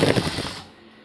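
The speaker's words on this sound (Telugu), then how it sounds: "ఇదే విధంగా కుట్టుకొని చేసుకొని ఉల్టా సైడు కుట్టుకురావాలి." A sewing machine stitching cloth while joining a strip of dori edging, a rapid rattling burst of needle strokes lasting about half a second, then stopping abruptly.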